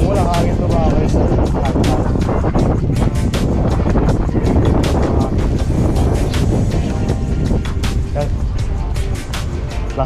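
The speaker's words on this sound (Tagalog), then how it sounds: "Kaya na ang weather pero mahangin." Heavy wind buffets the microphone during a cold-weather ride for the whole clip, a loud continuous rumble with sharp gusty crackles, while a person talks underneath.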